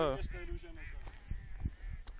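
Ducks quacking and honking nearby outdoors, a few rough calls mixed with someone talking, with rustling footsteps and low noise beneath.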